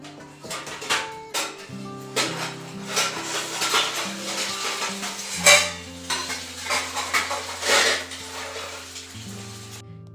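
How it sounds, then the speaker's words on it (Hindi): Eggs fry in a pan with a soft sizzle beneath repeated clinks and scrapes of a spatula and utensils against the pan, close and irregular, with a few sharper knocks. "मम्मी ने तो कर लिया था बैंगन फ्राई और मैं यहाँ पर कर रही हूँ एग फ्राई"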